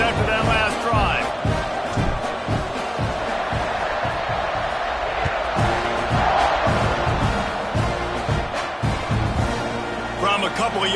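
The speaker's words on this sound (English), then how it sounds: "this crowd is feeling themselves after that last drive" A football stadium crowd roars and cheers continuously during a college game kickoff, a dense loud wash of voices with scattered shouts, while a commentator's voice talks over it.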